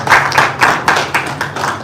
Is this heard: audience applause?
yes